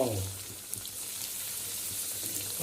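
Samosas frying in hot oil in a pan give a soft, steady sizzle and crackle at close range, with a brief low voice at the start.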